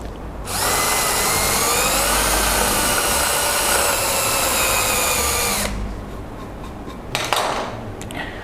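A power drill whines steadily at full speed for about five seconds, grinding into wood, then stops, followed by a few faint clinks and handling sounds.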